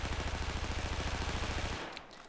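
Sustained automatic fire from an AEK rifle in Battlefield 4, a rapid even stream of shots for almost two seconds that cuts off abruptly, loud and close.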